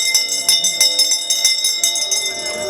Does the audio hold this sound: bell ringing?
yes